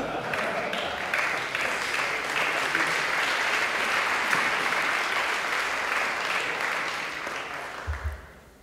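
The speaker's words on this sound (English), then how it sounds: "Then I would like applause for the muses, the people who worked for the catering" An audience at a lightning-talks event claps steadily and loudly for several seconds, the applause tapering off at the end.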